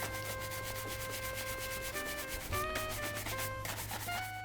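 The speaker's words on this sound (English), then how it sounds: "just a little bit of buffing, you can see that almost buffs totally back to normal" Cordovan leather boots are buffed by hand in quick repeated rubbing strokes, a soft rhythmic brushing texture that stays faint, with tonal music playing underneath.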